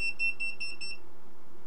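An FNIRSI ERD-10 electromagnetic radiation meter sounds its alarm, five quick shrill beeps in an even rhythm that then stop, close and fairly loud with no voices.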